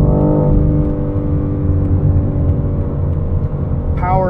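A 2022 BMW M4 Competition xDrive Convertible on Pilot Sport 4S tires accelerating hard, a loud, steady engine roar and rumble filling the cabin, with a brief rising whine near the end.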